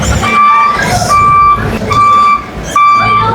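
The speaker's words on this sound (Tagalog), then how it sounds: "May kasalubong na truck." A truck on a street sounds its reversing alarm: loud, close, evenly spaced high beeps repeating over an engine rumble and road noise.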